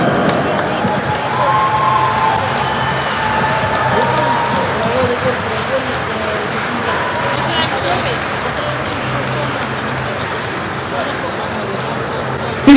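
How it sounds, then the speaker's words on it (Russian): A crowd applauds a record deadlift at a powerlifting meet, a dense, continuous wash of clapping and cheering under a loud announcer's voice. "Ваши бурные аплодисменты Кириллу"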